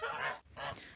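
Geese in a snowy yard, including a grey shaggy gander, giving two loud, close, nasal honks separated by a short gap.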